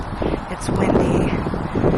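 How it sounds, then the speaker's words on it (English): Wind buffets a microphone outdoors in New Hampshire, making a continuous low rumble and rustle. The noise stays fairly loud and even throughout, with faint voices in the background. "It's windy."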